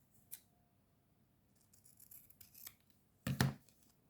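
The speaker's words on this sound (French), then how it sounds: "Je vais le couper un petit peu plus court." A pair of scissors trims a piece of material a little shorter, giving a quiet faint snip near the start and a sharper, louder double cut close up near the end, with soft rustling handling in between.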